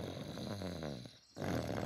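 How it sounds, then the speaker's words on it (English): Daddy Pig snores in a tent in a Peppa Pig cartoon, one long, faint, rumbling breath that tails off into a brief pause before the next snore begins. "It sounds like snoring."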